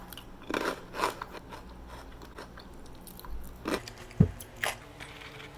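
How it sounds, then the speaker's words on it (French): Close, crisp crunching of chili-lime soy crisps being bitten and chewed, with several sharp crackly bursts spread irregularly over a few seconds and no talking. "J'ai toujours été curieuse, c'est des croustilles de soya."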